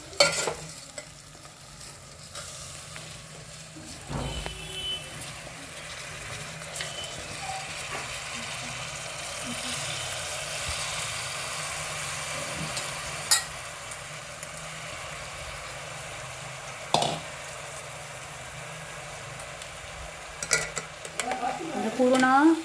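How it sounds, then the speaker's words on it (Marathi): A spoon scrapes and stirs washed rice with whole garam masala spices in a pot over low heat, with soft sizzling, a few sharp clinks against the metal and a steady, quiet kitchen background. "पूर्ण मिक्स करायचं, म्हणजे आपले गरम मसाले खडे मसाले सगळे त्या भाताला लागले पाहिजे"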